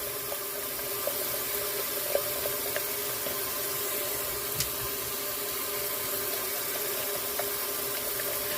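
Running water from a tap steadily fills a pot with soapy water while washing up after cooking, a constant close hiss and gurgle with a few faint knocks.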